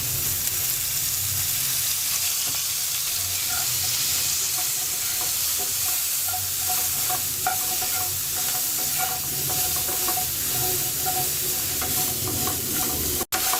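Cauliflower fries in hot oil with turmeric in a pan, giving a steady, loud sizzle and bubbling hiss that carries on without a break, with occasional stirring scrapes near the end.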